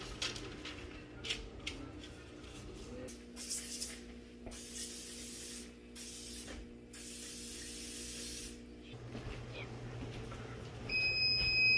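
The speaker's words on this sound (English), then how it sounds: "we'll probably spray some cooking spray over the top of that too" Several short bursts of cooking spray hiss nearby, followed by a longer continuous spray, with quiet pauses between.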